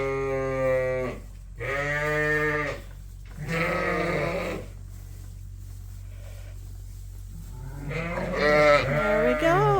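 A ewe and her lambs bleat in long, wavering calls with short pauses between them. The animals are close and loud, and the calls come one after another from a flock of lambs.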